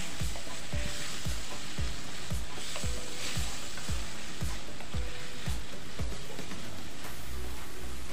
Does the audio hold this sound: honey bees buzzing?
no